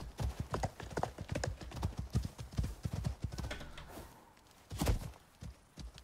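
Hooves of a horse-like mount in the video game Icarus clop in a steady, close rhythm that runs through the clip, pausing briefly before a louder burst of strikes near the end.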